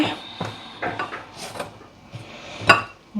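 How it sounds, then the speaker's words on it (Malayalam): A spoon or spatula scrapes and knocks against a bowl as cream bun dough is mixed, making irregular close clinks and rubbing sounds with one sharper tap near the end. "നന്നായിട്ടൊന്ന് മിക്സ് ചെയ്ത് കൊടുക്കുക"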